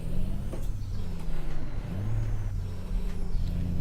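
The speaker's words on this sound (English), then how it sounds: "I still have that big engine here, the 800 horsepower one" An 800-horsepower truck engine in American Truck Simulator, hauling a heavy trailer, rumbles low and steady up close, with deep droning tones shifting slightly as it works.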